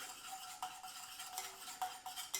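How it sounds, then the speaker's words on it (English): Whisk scraping steadily through Frank's hot sauce in a bowl, a basic buffalo wing sauce, with soft rhythmic metallic stirring and a few sharper clinks against the side, close up and alone with no talking. "start whisking that together"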